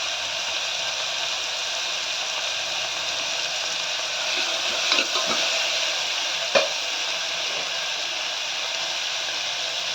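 Dried red chillies and crushed garlic fry in oil in a pan for kovakkai gothsu, making a steady close sizzle broken by a few sharp utensil clinks.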